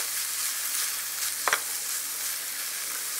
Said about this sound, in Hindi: अब इसमें राइस डालकर 3 से 4 मिनट के लिए पकाना है ताकि सारी सॉसेस राइस में मिक्स हो जाएं।